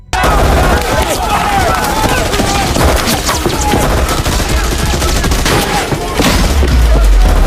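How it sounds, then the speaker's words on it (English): Dense, rapid gunfire from mercenaries in an action movie scene rattles loud and continuous for the whole stretch, close bursts overlapping in a sustained fusillade with a low boom near the end. "However, the mercenaries have found out about Adam's presence and immediately shoot Adam."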